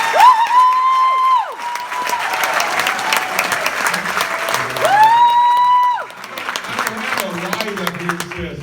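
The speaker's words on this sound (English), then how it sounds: "Applause." Applause and cheering from a crowd at a public meeting, loud and continuous, with sustained tones and voices mixed in over the clapping.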